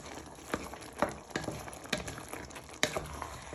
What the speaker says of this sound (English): we're just stirring in the stock cubes just to thicken it